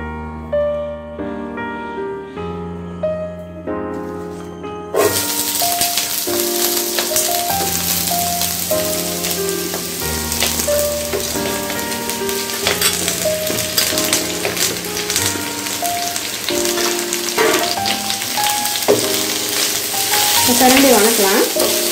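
Pirandai (adamant creeper) sautés in freshly added oil, a dense crackling sizzle with spatula stirs that starts after several seconds of music alone, then continues under the melodic background music.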